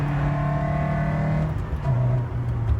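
A Lotus race car accelerates hard on a track, its engine loud and close with a sustained rising note, a quick dip at a gear change, then pulling up again.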